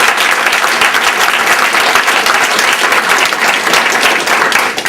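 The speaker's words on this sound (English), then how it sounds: "Give us a big round of applause." Dense, steady audience applause at a UMBC event, loud and continuous throughout with no talk over it.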